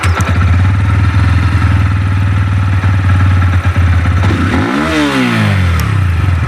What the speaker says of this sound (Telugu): మనకి బైక్ అనేది స్టార్ట్ అయినప్పుడు చాలా సైలెంట్ గా మనకి ఎటువంటి సౌండ్ లేకుండా మనకి స్టార్ట్ అవడం జరుగుతుంది